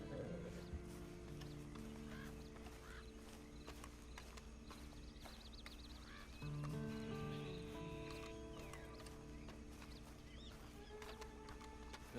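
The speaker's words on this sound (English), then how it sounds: "And you better get on this horse." Horse hooves clip-clop in a steady rhythm in the Red Dead Redemption 2 game, faint and layered within a busy mix of ambient outdoor game sounds and music.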